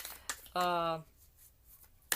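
Tarot affirmation cards are shuffled in a short riffling burst of about half a second, close and crisp, with soft speech before and after.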